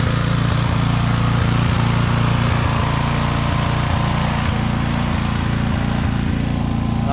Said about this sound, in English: I'm gonna get started mowing this